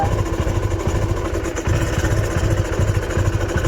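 A motorcycle engine with water in its silencer idles unevenly after riding through rain, its low exhaust note sputtering and gurgling in a steady rough rhythm, close and fairly loud throughout.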